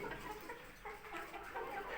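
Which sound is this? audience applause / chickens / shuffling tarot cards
chickens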